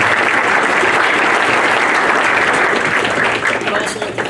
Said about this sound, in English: I give them a round of applause.